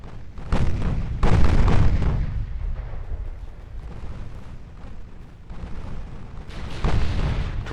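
A torpedo strikes a ship in the naval battle game Ultimate Admiral: Dreadnoughts, giving heavy booming explosions: two big blasts close together, a lower rumbling lull, then another loud burst near the end.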